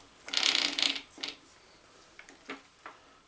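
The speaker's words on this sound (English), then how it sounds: "Ratcheting on the forward stroke, advancing on the back stroke, ratcheting on the forward stroke" The cross feed mechanism on a refurbished Atlas 7B metal shaper gives a burst of metallic clicking followed by several sparse, separate ticks, nearby and fairly crisp.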